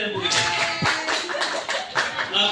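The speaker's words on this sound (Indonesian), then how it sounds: "Tepuk tangan untuk Bu Dahlia dan Bu Ides." A small group claps briefly and irregularly at close range, mixed with voices and light laughter.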